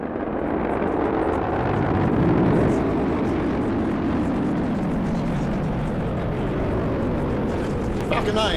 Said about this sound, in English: Falcon 9 carrying IM-2's lunar lander Athena has successfully lifted off at pad 39A.